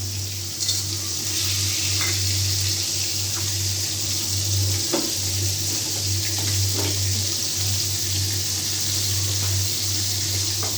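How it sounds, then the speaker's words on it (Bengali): Dried chanda fish (shutki) frying in a pan gives a continuous hissing sizzle with a few soft stirring knocks, close and even throughout. "দেখুন শুটকিটাকে কিভাবে ভাজা দিচ্ছি।"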